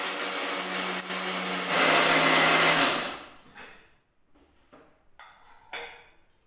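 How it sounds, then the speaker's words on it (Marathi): A kitchen mixer grinder whirs loudly as it grinds almonds, cashews and roasted chana dal, rising to a harsh peak before spinning down into a few quieter rattling bursts. "काही जिन्नस आहेत ते आपण एकत्र मिक्सरमधून काढून घेणार आहोत"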